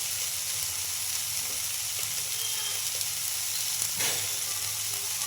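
Onions sizzle steadily in a hot pan with salt added for an onion samosa filling, a continuous close frying hiss with an occasional soft stir or scrape and no talking.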